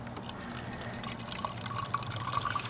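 Water flows steadily while an Uzima UZ-2 filter is backflushed, a quiet continuous trickle with small drips and splashes, heard close without talk.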